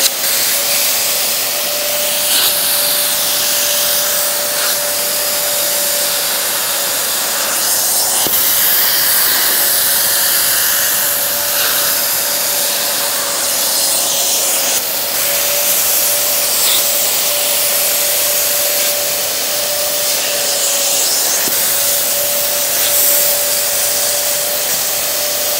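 Parkside injector-extractor spraying a diluted APC and fabric-cleaner mix while vacuuming upholstery, a steady loud hiss and suction roar with a constant whine running unbroken throughout, close and alone.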